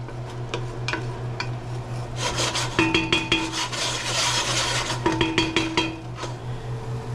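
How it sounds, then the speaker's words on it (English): About a quarter cup of oil sizzles gently in a pan for Sichuan cod soup, a soft steady hiss under repeated scraping and stirring strokes against the pan, close up with no talking. "That gentle little hum, that sizzle, that's what we're looking for."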